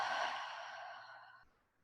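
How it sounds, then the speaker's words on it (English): A single long, soft exhale released through parted lips during a yoga flow, breathy and close, fading gradually over nearly two seconds into quiet. "Part the lips, exhale"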